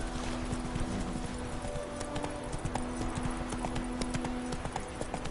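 Roach, the horse in The Witcher 3 on PS4, gallops with steady, rapid clip-clop hoofbeats against constant in-game ambience, the footfalls moderately close and continuous throughout.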